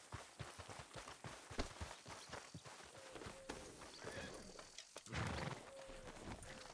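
Horse hooves clopping at a quick, uneven pace in the El Rancho RP video game, fairly faint, with scattered thumps and game noise around them.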